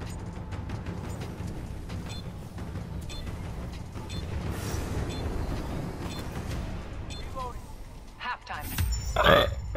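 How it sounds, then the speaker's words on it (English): A man gives a deep, drawn-out burp near the end of the stretch, following steady background noise and voices heard throughout. "Felt good to burp, I'm not gonna lie."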